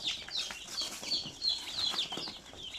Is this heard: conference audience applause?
no